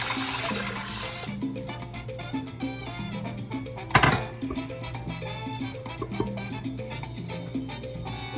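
Two cups of water pour into an Instant Pot over rinsed, drained rice for Cuban-style rice, a steady splashing stream over background music.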